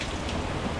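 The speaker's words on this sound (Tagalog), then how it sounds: "Lakas ng ulan dito." Heavy rain pouring steadily, a dense, even hiss with no other sounds.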